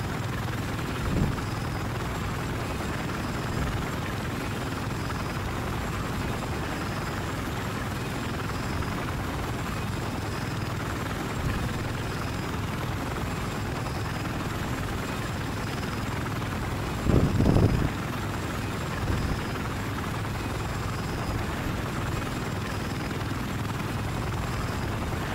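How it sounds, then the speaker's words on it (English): A military helicopter flies steadily overhead during an airsoft milsim operation, its rotor drone a continuous, loud wash throughout, with a brief thump of handling noise partway through. "You land a chopper."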